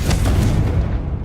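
A Confringo spell explodes in Hogwarts Legacy with a loud, close boom, and the deep rumbling blast fades over about a second.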